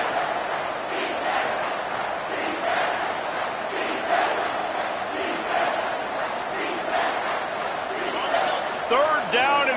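A football stadium crowd at a Texas vs Georgia game roars loudly and steadily on third down, a dense wall of cheering and yelling with a commentator talking over it.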